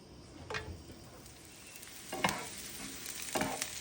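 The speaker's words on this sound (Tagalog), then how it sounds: "So butangan na ko ni siya og oil gamay. Nako ang sibuyas." Onion frying in a little oil for a ginger beef stir fry, a soft continuous sizzle with a few brief scraping stirs, close but quiet, no talking.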